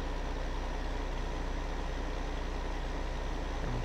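A tractor engine idles in the farming video game Farming Simulator 2015, a steady low rumbling drone that holds at an even level throughout, with no voices over it.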